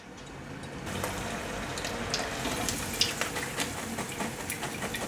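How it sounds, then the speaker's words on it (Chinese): Fifty grams of cashews deep-frying in hot oil, a steady close crackling sizzle with brief bubbling pops, no voices. "再热油，放入50克的腰果炸。"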